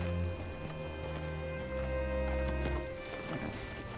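Horse hooves clip-clop in Red Dead Redemption 2 over a steady music bed, a quick even trot heard at moderate loudness with no voice over it.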